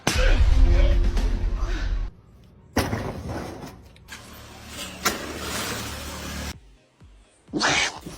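A cat cries out loudly in close, strained bursts separated by brief silences, mixed with other rough household noise.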